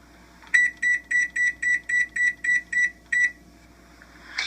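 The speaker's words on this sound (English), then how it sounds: "And I'm going to set my timer for 10 minutes." A kitchen timer on an oven being set for cookie baking gives ten short, evenly spaced electronic beeps, close and clear in a quiet room, with a faint rustle at the very end.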